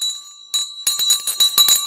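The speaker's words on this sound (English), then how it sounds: "The bell!" A bell rung to mark the stock market close, a bright metallic ringing with a steady high tone, struck in quick repeated strokes close by, loud and alone.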